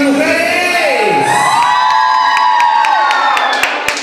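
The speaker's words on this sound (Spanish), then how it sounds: "¡El grito de las mujeres!" A crowd of women at a quinceañera party let out a loud, sustained cheering shout with whoops and high yells, rising and falling together for several seconds close up.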